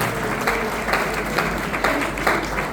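An audience applauds honoured guests at a Paraguayan arts and culture event in Buenos Aires's Palacio Barolo, a dense, continuous roar of clapping with slight surges throughout.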